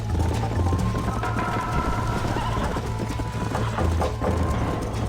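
Horse hooves clip-clop steadily in Red Dead Redemption while riding, a continuous rhythmic trotting under game music, with occasional whinnies and neighs.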